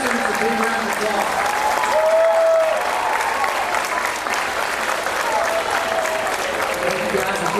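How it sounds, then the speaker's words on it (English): Sustained applause from a crowd at a fifth grade elementary school graduation, steady and fairly loud throughout, with a faint voice partway through. "Let's give these students a big round of applause."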